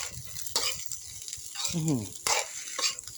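Fried rice stirred with a spoon in hot oil in a home kitchen, heard as irregular scraping and clinking strokes over a soft sizzle, close and fairly quiet, with no talking.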